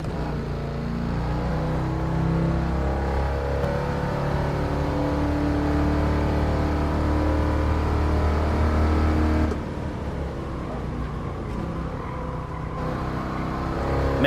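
A 1978 Trans Am muscle car in Gran Turismo Sport drives with a steady, loud V8 drone and engine whir. The note drops briefly near the end as the car eases off, then carries on.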